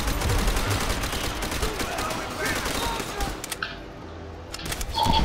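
Rapid machine gun fire from Call of Duty: World at War, dense bursts of rattling shots that run almost without pause, loud and close, with a brief drop near the end before the shooting picks up again.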